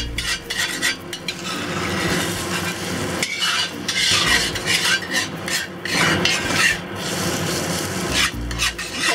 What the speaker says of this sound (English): We'll add the eggs. And I'm going to cook this to a soft scramble.